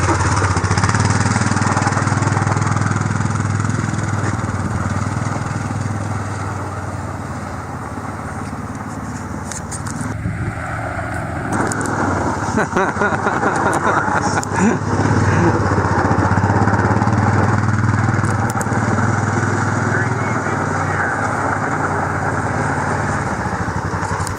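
Quad ATV engine on a test ride after a power steering install, a continuous mid-pitched motor drone that rises and dips with throttle, close and steady throughout, with a brief quieter stretch midway.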